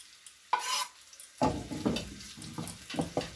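Onion, ginger and green chili sizzling in hot oil, opening with a short burst of frying followed by stirring and scraping strokes with steady crackle underneath, close and fairly loud.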